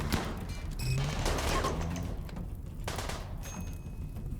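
Turrets in the RimWorld video game firing on drop pod raiders, rapid bursts of automatic gunfire mixed with sharp impacts and thuds, loud and continuous with short gaps, and no voices.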